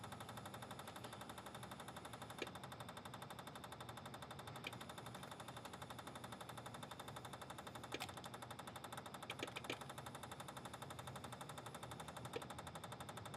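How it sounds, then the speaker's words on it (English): A small electric oil pump for the turbo on a drift trike running on its own, a faint rapid steady buzzing pulse with a few brief clicks, quiet and unbroken. "No, that's the oil pump for the turbo"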